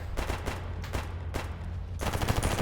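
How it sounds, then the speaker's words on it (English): Enemies shooting back in the game Escape From Pripyat: several sharp gunshots spaced irregularly, then a rapid burst of automatic fire near the end, loud and close. "now someone's shooting back"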